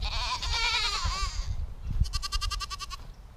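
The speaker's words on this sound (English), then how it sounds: "The goats, here's the goats." Goats bleat on a farm, one long wavering bleat up close followed by a second quivering, pulsed bleat, with rustling and shuffling beneath.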